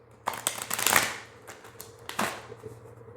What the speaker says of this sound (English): Okay, I'm gonna shuffle this really quick.